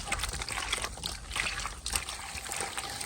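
Apple snails washed in plain water give a steady close trickle and sloshing of water, with continuous splashy movement throughout.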